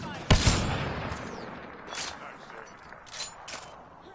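Enemy gunfire in the sci-fi shooter game Mass Effect: Andromeda: a sharp burst of shots up front, then scattered, fainter volleys and pops trailing off over a few seconds, with bits of voice mixed in.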